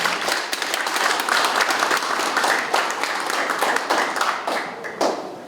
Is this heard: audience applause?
yes